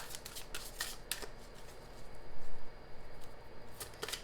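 A tarot deck is shuffled by hand at close range, a crisp riffling patter in several quick bursts, with no talking.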